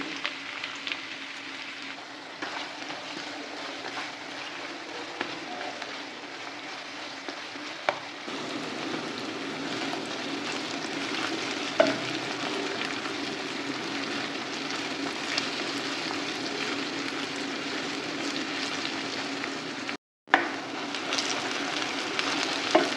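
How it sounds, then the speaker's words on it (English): Onion and garlic frying in hot oil, giving a loud, steady, close sizzle and crackle that runs the whole time with no talking. "so আমার পেঁয়াজগুলো ভাজা হয়ে যাচ্ছে"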